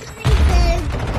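Gunfire from a gun in a video game, a single loud booming burst with a ringing tail, close and brief.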